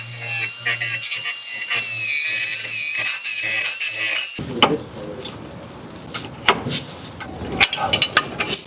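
Cutting metal tire-system plates, a harsh high-pitched grinding whine in uneven bursts over about four seconds, then scattered clanks and scraping.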